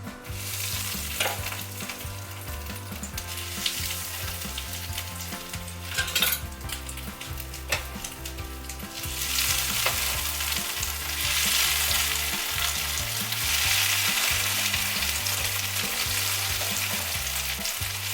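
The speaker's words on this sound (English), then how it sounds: "I'm going to start frying these in the hot oil." Steady crackling sizzle of eggplant frying in hot oil for eggplant parmesan, with occasional clinks of a utensil against the pan; no talking.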